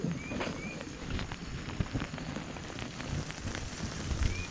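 Rain patters steadily on a tent on Mount Raung, a dense and continuous close drumming with scattered heavier drops, and no voices.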